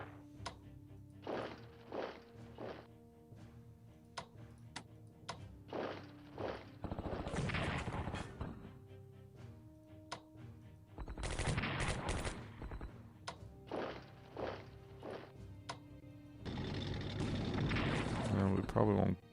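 Bursts of gunfire and explosive thuds from an army attack in the WWII strategy game Strategic Command, coming in several separated volleys with a longer sustained barrage near the end.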